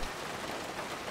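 Rain falls in a steady, dense hiss with soft pattering and no pauses over the short stretch.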